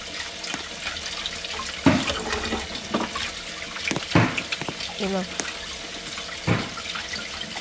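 Water running at a sink during washing in the Roblox Brookhaven video game, a steady splashing flow with several sharp knocks and clicks, and a person talking over it.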